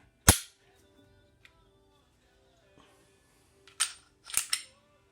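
Dry firing a Glock 34 pistol: a sharp trigger snap near the start, then a few faint ticks and a quick pair of crisp reset clicks near the end, close up and otherwise quiet.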